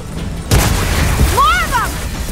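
A tracker blowing up in Gears of War lands as a single heavy, close boom, followed by a lingering rumble and warbling, sweeping electronic whines.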